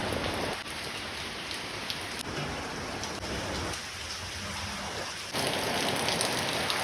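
Steady light drizzle falls in a flooded Assam village, a continuous soft patter of fine raindrops on surfaces that holds evenly throughout and swells slightly louder near the end, with no voices.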